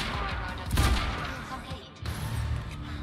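Gunfire in the video game Quantum Break: two loud, punchy bursts about a second and a half apart over a rumbling background of action.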